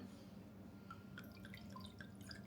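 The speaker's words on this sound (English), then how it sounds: "Am I pouring the wine right? It's coming out the bottle into the glass." Muscadine and blackberry wine poured from a bottle into a glass, a faint scattered series of small drips and splashes over a low steady hum.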